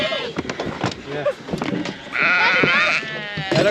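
Sheep on a farm bleat, with one clear, drawn-out bleat standing out near the microphone amid shuffling and other livestock noise, while people talk nearby.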